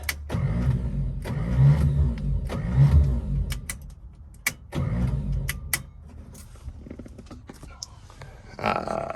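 A 1955 Chevy engine cranks several times without firing, each try a short low churning burst with gaps between, and someone speaks quietly between attempts.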